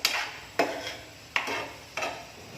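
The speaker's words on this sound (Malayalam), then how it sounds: "ഒന്ന് നന്നായി ഇളക്കി കൊടുക്കാം." Chopped onions stirred in a pan with a spoon, four distinct scraping strokes at a steady, unhurried pace, close and quiet, with no talk.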